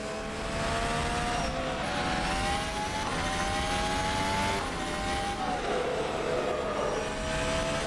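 Simulated truck engine in American Truck Simulator on a Texas drive, droning steadily and rising in pitch through the gears in smooth sweeps, loud and continuous with no talk.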